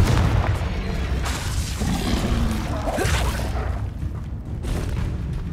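Dense, rumbling blast of the Confringo explosive spell in Hogwarts Legacy, a loud continuous roar of booms and crackling impacts filling the whole stretch with no pause.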